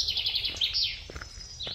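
Birds chirp and tweet continuously in a bright, rapid chatter beside rice paddy fields on Palm Beach Road, Navi Mumbai, with several overlapping calls sounding fairly close over soft background noise.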